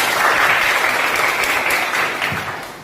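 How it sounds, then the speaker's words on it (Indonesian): A classroom of students in a rural school on Nias Island claps together in steady, dense applause that stays loud for about three seconds and then tapers slightly. "Tepuk tangan."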